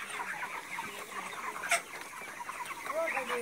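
Hens at a poultry farm cluck and chatter in scattered short calls at moderate distance, with a brief louder squawk partway through and soft background murmur.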